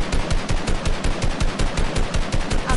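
Sustained automatic gunfire in a video game, loud and close, with shots rattling in a fast, even rhythm throughout and no voices.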